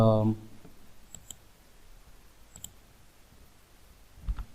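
Computer keyboard keys give a few faint, sharp clicks spaced through a quiet room, after a voice trails off at the start.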